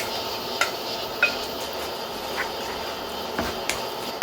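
Meat stir-frying in a little cooking oil in a pan for a tofu stew gives a steady broadband sizzle, with a few sharp clinks of a utensil against the pan.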